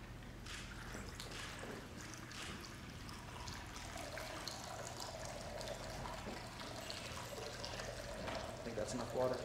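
Water is poured and trickles steadily into a font during a baptism, with a continuous splashing flow under low voices nearby.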